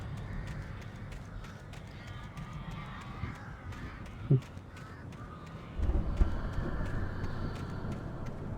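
Crows caw in the horror video game Alan Wake, a quick run of faint, repeated calls over game noise with rapid footsteps, a single thud and a dull rumble partway through.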